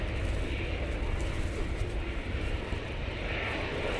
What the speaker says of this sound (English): it is the Qatar 787-9 Dreamliner coming in from Doha